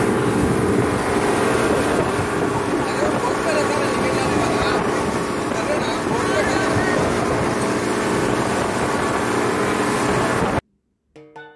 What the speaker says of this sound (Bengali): পাটায়া শহরকে পিছনে ফেলে রেখে দুর্বার গতিতে এগিয়ে চলল আমাদের স্পিড বোট